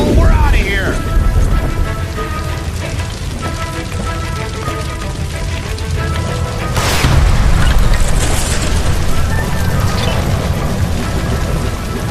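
In the L.A. Noire detective game, a gas line by a stove is shot and explodes inside an electroplating plant. A deep roaring blast rumbles up partway through over continuous heavy background noise, loud and close, with voices talking around it.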